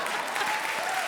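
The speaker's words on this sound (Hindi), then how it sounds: "जोरदार तालियां हो जाए।" Studio audience applause on the Comedy Circus television comedy show, a brief, full burst of many people clapping at an even level.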